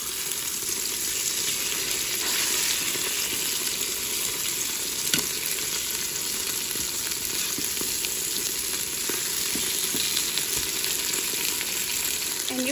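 Chicken pieces browning in butter and oil inside a Ninja Foodi pot, a continuous close sizzle and crackle with occasional sharper pops and spatters, steady throughout without any talking.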